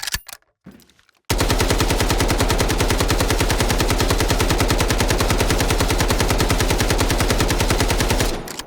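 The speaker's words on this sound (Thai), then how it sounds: "เรามาทดสอบปืนกันดีกว่านะครับผม" AKM rifle fitted with a 70-round drum magazine, skeleton grip and 416 stock, fires one long sustained full-auto burst in the Delta Force video game, loud rapid evenly spaced shots running about seven seconds after a brief quiet lead-in.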